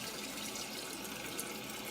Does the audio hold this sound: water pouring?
yes